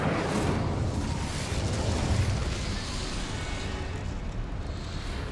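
Incendio fire spell cast in Hogwarts Legacy, a dense roaring burst of flame that stays loud and steady for several seconds, with rumbling low crackle throughout.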